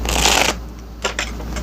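A deck of tarot cards is riffled briskly for about half a second, a dense close-up flutter, followed by a couple of softer taps and slides as the cards settle.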